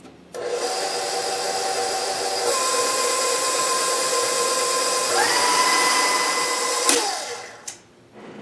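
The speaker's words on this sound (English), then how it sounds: "I'm just going to mix this together now." Electric mixer beating red velvet cake batter, a steady loud motor whine that holds for several seconds, shifts pitch partway through, then winds down to a stop.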